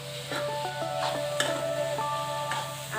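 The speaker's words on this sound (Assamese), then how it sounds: "এতিয়া এইখিনি ভাজিবলৈ হৈ গৈছে। এতিয়া আমি এইখিনি কেৰাহীত লৈ যাওঁ।" Grated coconut for coconut laddu sizzles and is stirred in a wok. A soft, steady frying hiss runs throughout, with light scraping stirs and faint clinks recurring at intervals.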